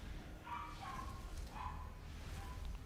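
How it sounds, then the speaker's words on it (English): A small dog yaps and barks in short, repeated high bursts, faint and distant beneath a low background hum. "Oh my gosh, there's another dog in here."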